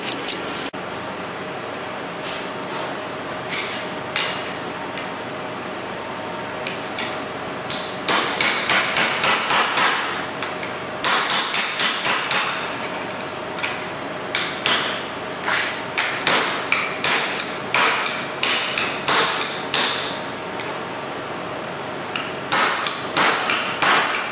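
A hammer strikes a scrap metal piece to crease it, dozens of close, sharp metallic blows in quick rhythmic runs, sparse at first and then in dense bursts separated by brief pauses.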